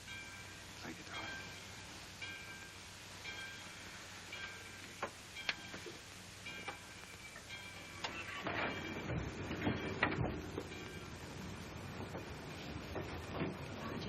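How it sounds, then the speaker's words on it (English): A moving train in a 1941 film scene: steady rumbling with clicking and ticking, swelling louder about two-thirds of the way through, with faint background sound throughout. "The train's moving."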